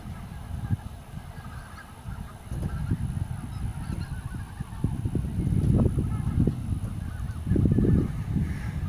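Geese honk repeatedly at a construction job site, harsh nasal calls coming in irregular bursts and clusters, moderately near and loudest in the final seconds, over a quiet background hum.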